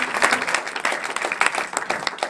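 A studio audience at a poetry evening applauds the poet Najmul, steady dense clapping from many hands, moderately distant and even, continuing alone without talk.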